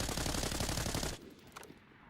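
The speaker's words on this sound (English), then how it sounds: "MK42 with no recoil? Well, let's fire some shots." MK42 rifle in Arena Breakout Infinite firing a rapid, loud sustained burst for about a second, then cutting off into a quieter tail with a few faint clicks.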